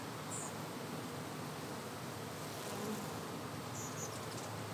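A cluster of honey bees buzzing during an open-air hive removal, a faint, steady hum of many wings close by, continuous and without talk.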